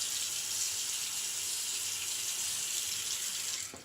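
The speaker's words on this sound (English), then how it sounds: "I'm going to fill up a bit of a sink of water" Tap water runs steadily into a sink being filled for shaving lather, a constant close hiss of flowing water that stops abruptly at the end.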